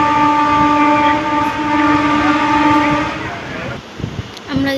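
Riding aboard the Uttarbanga Express, a passenger train gives a loud, sustained horn-like tone over the rolling rumble and rattle of the carriage, then the tone drops away and leaves uneven clatter and knocks.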